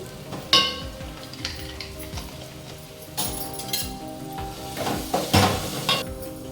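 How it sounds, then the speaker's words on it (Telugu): Chutney ingredients fry in a pan with the lid lifted on and off, giving an uneven sizzle broken by several sharp metallic clinks and clatters. "మధ్య మధ్యలో అలా మూత పెడుతూ వేపుతూ ఉంటే ఒక టూ మినిట్స్లో అయిపోతుందన్నమాట"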